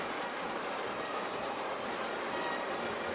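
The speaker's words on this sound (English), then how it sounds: "This is a Bassetlaute pre-war Royal Scot locomotive in black." A model pre-war Royal Scot locomotive by Bassett-Lowke, in black, runs steadily along its track with a continuous, even rolling rumble and whirr, close and unbroken, with no talking.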